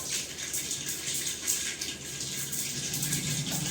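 Water gushes into a pressure cooker during tempering of khichdi, a bright, steady splashing pour heard close and alone for a few seconds.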